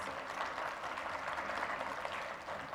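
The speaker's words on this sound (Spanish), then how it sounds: "Un fuerte aplauso, por favor, para Josefa María Hernández Cabarcas." An audience at a national native-languages day ceremony applauds steadily, a dense wash of clapping that holds evenly for a few seconds at moderate distance.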